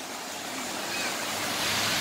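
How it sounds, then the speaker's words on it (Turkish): An artificial waterfall in a park beside a suspension bridge gives off a steady, full rushing hiss of falling water that swells slightly louder toward the end. "Böyle bir şelale yapılmış. Çok güzel yapmışlar."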